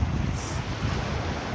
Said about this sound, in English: my favourite thing at the beach is just listening to the waves